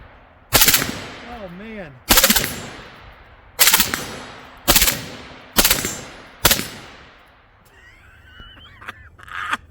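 AR-15 fitted with an FRT-15L3 forced reset trigger fires six loud, sharp shots in uneven bursts with ringing echoes, followed by a brief spoken reaction and faint background noise.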